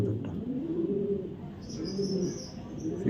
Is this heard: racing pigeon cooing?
yes